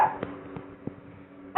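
A puppy gives a few short, soft yips spaced apart at close range, ending with a sudden louder burst.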